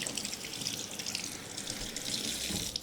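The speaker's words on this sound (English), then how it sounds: "I'm just giving the celery a wash and a rub along the stalk" Celery stalks are washed and rubbed under a running kitchen tap, a steady, close hiss of flowing water splashing without a break.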